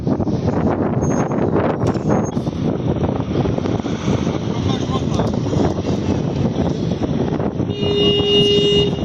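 Strong gusting wind buffets the microphone on a street during storm weather in Ganja, with a continuous loud roar throughout, a brief horn-like tone near the end and traffic in the background.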